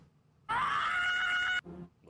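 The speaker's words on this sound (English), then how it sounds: "I had to hear the ostrich scream." An ostrich lets out a single loud, shrill scream lasting about a second, followed by a short lower grunting tail.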